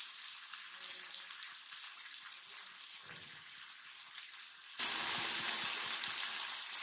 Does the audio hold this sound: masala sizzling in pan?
yes